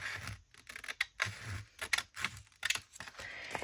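Scrap wrapping paper being cut for journaling cards, a close series of short crisp snips and paper rustles, irregular and unaccompanied by talk.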